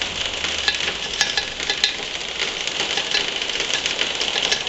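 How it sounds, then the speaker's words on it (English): Metal tool scraping carbon from the exhaust valve of a 1973 Briggs and Stratton 3hp engine, a close, continuous gritty rasp with quick scratchy strokes and a couple of sharper ticks. "work around in the exhaust valve, scrape all the carbon out"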